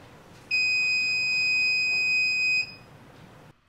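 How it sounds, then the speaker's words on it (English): A Slack notification sign gives one steady, loud electronic beep lasting about two seconds, a clean high tone with no talking. "we'll get a beep and the social channel sign will flash on and off"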